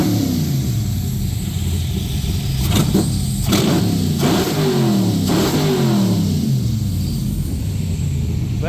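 Back Draft Cobra 427 V8 engine revved repeatedly toward full throttle up close, with loud rising and falling blips over a constant throaty rumble.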